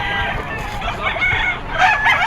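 A young rooster (stag) crows loudly and close at a Friday pet market in Bocaue, Bulacan, with brief clucking and market background noise around the single drawn-out call.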